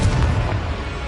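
A Confringo blast spell in the Hogwarts Legacy video game fires as a dense, rumbling burst that holds its loud, booming roar throughout without fading.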